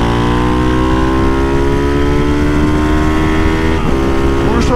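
A Start 230 motorcycle engine revs loud and close, its rising harmonic whine climbing steadily through the gears as it races along a street, with a brief shift near the end.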